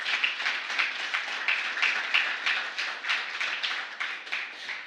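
A church congregation claps steadily and fairly faintly, with a soft, even patter of many hands that pulses in a loose rhythm throughout.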